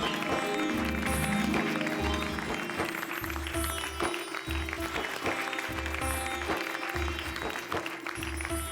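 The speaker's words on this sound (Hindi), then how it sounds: "भाई ऐसी महान आत्मा के लिए एक बार जोरदार तालियां।" Loud, sustained applause from a crowd at a college gathering honouring someone, steady throughout with a low rhythmic background running beneath it.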